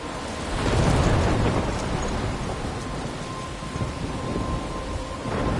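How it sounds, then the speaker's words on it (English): Thunderstorm in the game Life is Strange: a heavy rumble of thunder swells early over a steady wash of pouring rain, which continues loud and dense throughout with no voices. "I'm trapped in a storm?"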